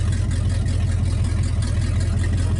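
A 1956 Studebaker Golden Hawk engine with a straight exhaust idles loudly, a deep, throbbing rumble with a pulsing low beat, close and steady.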